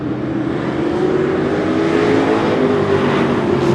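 Race cars on a short oval track roar past together in a loud, sustained engine drone with slight pitch shifts as the pack speeds by close to the listener.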